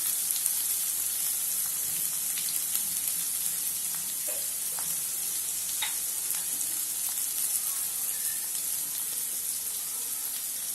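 Sliced onions deep frying in oil toward golden for a chicken curry, a constant hissing sizzle with faint crackles and occasional light taps, steady and unaccompanied by voices.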